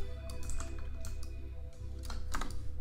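Steady typing on a computer keyboard, quick key clicks close up in a quiet room with a short pause midway.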